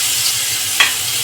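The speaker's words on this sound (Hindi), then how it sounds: "आधा चम्मच लहसुन अदरक मिर्ची का पेस्ट डालेंगे।" Garlic, ginger and chili paste hisses and sizzles in hot oil in a pan, a steady frying crackle broken by one brief sharper spatter near the end.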